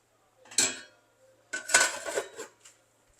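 A lid is set onto a metal pot of coconut chicken biryani: two clattering bursts of metal clinks and scrapes close by, a brief jangle followed by a longer rattle, with no talking.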